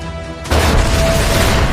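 Sudden loud blast of a Boeing 747 exploding in flight at 30,000 feet, a sharp onset after brief quiet giving way to a sustained roaring rumble.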